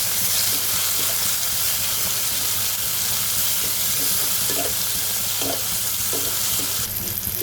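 Garlic, onion and small shrimp frying in oil for taro greens, a loud steady sizzle with occasional stirring scrapes in the pan, close and continuous without talking.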